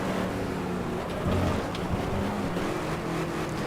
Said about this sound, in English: Here comes the Mustang. You can hear him.